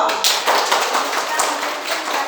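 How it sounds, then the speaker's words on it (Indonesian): Classroom applause for a student at a primary school, a brief burst of scattered clapping from a group of children that continues evenly for about two seconds. "Ya, tepuk tangan kepada Arko."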